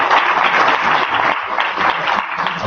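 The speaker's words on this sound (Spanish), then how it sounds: "Aplausos a ustedes porque el aplauso de ustedes es para ustedes" An audience at a film criticism and journalism seminar applauds, a loud, sustained wash of clapping that thins slightly midway and then carries on, with no voices over it.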